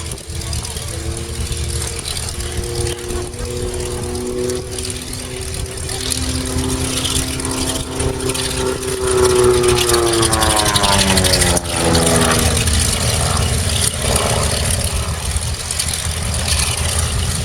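A DR-107 One Design home-built aerobatic aircraft performing at an airshow, its propeller engine droning steadily throughout with rising and falling pitch as it manoeuvres, over constant crowd and wind noise.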